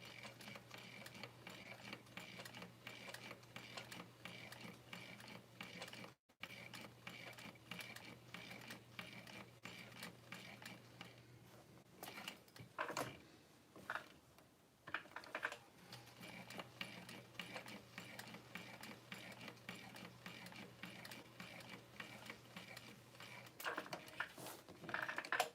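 A sewing machine stitches through vinyl for a handbag, running in long steady bursts of fast mechanical clatter, briefly stopping and restarting for backstitching over the hardware connectors, close and continuous with no talking.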